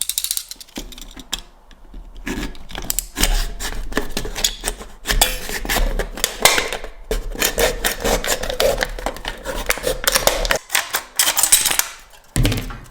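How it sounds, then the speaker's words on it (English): An X-Acto knife scores and cuts the rims off an aluminium pop bottle can to make a flat sheet, giving loud, close, scratchy rasping and clicking strokes in rapid irregular bursts with brief pauses. "So I'm gonna use my X-Acto knife and cut out the rims and just come up with a flat sheet"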